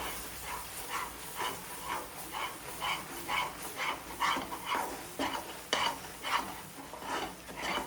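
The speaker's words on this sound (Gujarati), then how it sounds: "દૂધ નાખીને ફટાફટ હલાવવું પડે છે, નહીંતર બધો લોટ તળિયે બેસી જાય છે।" A spoon stirs a mohanthal mixture of roasted gram flour and milk in a pan for a Diwali sweet, making quick, regular scraping strokes about twice a second over a soft sizzle, close and clear.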